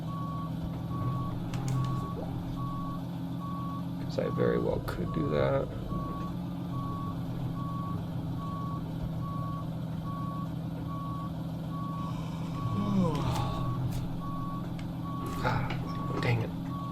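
A truck backs up in American Truck Simulator, its reversing alarm beeping in a steady, unbroken rhythm over the engine's low hum, while someone talks briefly and other clanks and rumbles rise now and then.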